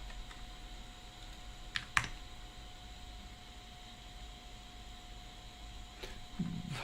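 Quiet keystrokes tapped on a computer keyboard while logging into a Linux desktop, with a couple of sharper clicks standing out over a steady low background hum.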